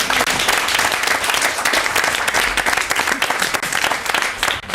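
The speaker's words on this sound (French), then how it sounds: "si on l'applaudissait, tout simplement" Studio audience applauding warmly at a televised French-language charity show, a dense, steady wash of clapping from many hands that carries on without break and fills the room.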